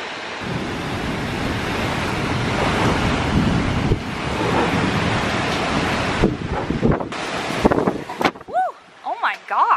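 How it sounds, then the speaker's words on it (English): Strong wind roars through trees in a windy, rainy storm, buffeting loudly and continuously before breaking into choppy, uneven gusts near the end. "I think we're just gonna let it be really windy and rainy for now"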